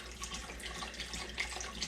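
A kitchen tap runs water into a pot of white bean and ham soup being made with chicken broth, giving a faint, steady stream with no talking.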